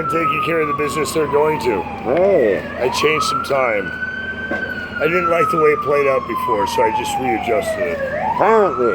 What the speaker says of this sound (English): these sirens going off?